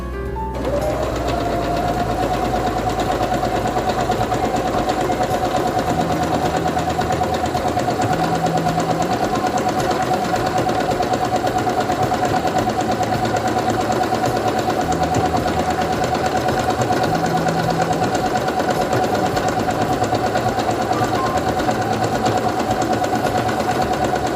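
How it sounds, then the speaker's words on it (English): A Singer Quantum Stylist 9960 computerized sewing machine stitches through fabric with a steady, continuous motor whir and rapid needle clatter that runs unbroken for the whole stretch after a brief start-up click, loud and close with no talking. "I'm going to take my fabric and put it under the presser foot, lower it, and begin sewing."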